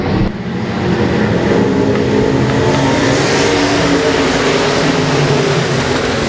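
Race cars roar loudly as they accelerate at the start of a dirt-track race at Ark-La-Tex Speedway, with a dense, sustained engine din from the pack close by.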